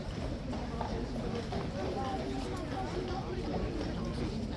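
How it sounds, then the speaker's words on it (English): Hooves of two large Horse Guards horses clop steadily as they walk back in for the day, heard under a constant murmur of crowd chatter and nearby talk. "those two massive horses are going back in and they are done for the day"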